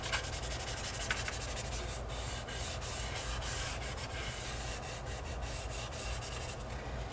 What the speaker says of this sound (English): So I'm adding some of my compressed charcoal.